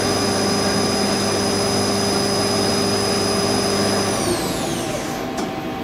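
A Star SR-32J CNC Swiss lathe spindle runs at 6000 RPM, a loud steady high whine with constant tones that drop in pitch as it spins down near the end.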